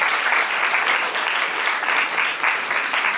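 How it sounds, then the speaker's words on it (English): A room of delegates and journalists applauding at the end of a Model UN press conference in Nepal, dense continuous clapping from many hands, close and steady throughout. "A big round of applause to each and every delegate and journalist present here"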